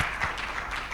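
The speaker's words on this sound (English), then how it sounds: "please help us to clap for our VC" A brief burst of audience clapping at a platform event, moderately loud and continuous through the short moment.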